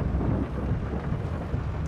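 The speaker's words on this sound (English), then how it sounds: "And it's still raining" Rain pours in a Farming Simulator 22 game world with thunder, a dense, even roar of rainfall and low rumble that holds steady throughout with no speech.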